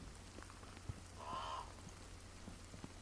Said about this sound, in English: I think that is but a bird.